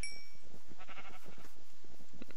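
A Minecraft cow gives a wavering, bleat-like moo in a couple of broken bursts, close and fairly loud against a quiet game background.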